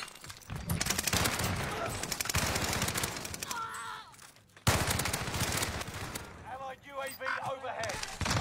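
Heavy gunfire in the Fortunes Keep video game during a tournament match: dense rapid bursts of automatic fire that pause briefly and then resume, with a voice talking over part of it.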